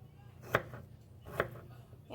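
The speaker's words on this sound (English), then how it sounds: "So I'm just going to cut up a little bit of each of these peppers." Two crisp knife chops through peppers on a cutting board, evenly spaced and close, with a quiet background.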